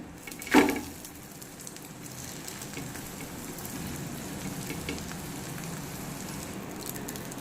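A flipped beetroot bread omelette fries in hot oil in a pan, giving a steady, soft crackling sizzle after a brief sharp knock at the start. No one speaks.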